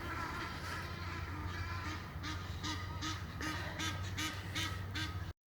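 Ducks or geese honk and quack in a busy cluster, with repeated overlapping calls at moderate distance over a steady low background rumble.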